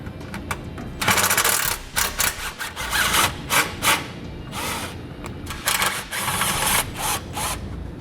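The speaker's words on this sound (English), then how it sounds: "We're going to take a 12mm socket and we're going to remove the two bolts that are on this hanger." A 12mm socket ratchets out two bolts from an exhaust hanger under a 2016 Nissan Altima, giving close, repeated bursts of clicking and metallic rattling with brief pauses between turns.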